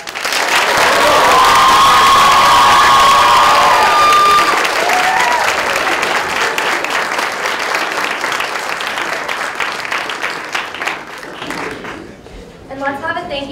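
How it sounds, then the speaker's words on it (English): A large audience at a university student government debate applauds six student candidates, loud dense clapping with some cheering and shouts that fades gradually while a voice speaks over the tail end. "let's have one final round of applause for all six of our students"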